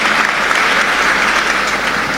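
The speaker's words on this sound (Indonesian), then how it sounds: "Bagus. Tepuk tangan buat Ridho." Audience of students at an Islamic boarding school assembly applauds a student, a loud, close, continuous patter of many hands clapping without talk.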